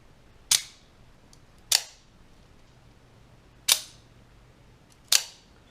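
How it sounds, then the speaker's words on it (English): An OTF knife deploying four times, each a sharp, crisp snap with a brief springy ring after it, spaced unevenly in an otherwise quiet room. "Pay attention and you'll hear, or you should hear, a springy notes when you deploy."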